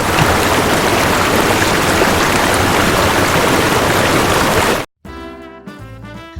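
Steady, loud rush of flowing water fills the first five seconds, then cuts off abruptly into a brief silence.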